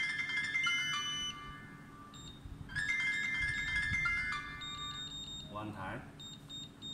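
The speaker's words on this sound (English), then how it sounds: "You input three times wrong password, the safe will alarm and send a message to your mobile phone." A smart sensor safe's wrong-password alarm beeps in repeated bursts of bright electronic tones, loud and close, while someone talks over it.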